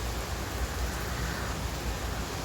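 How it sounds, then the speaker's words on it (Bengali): Heavy rain pours steadily during a storm, a dense, constant hiss of downpour drumming close by with no pauses across the whole stretch. "আবার বৃষ্টি শুরু হয়েছে, তুফান দিতেছে, বন্ধ হচ্ছে না।"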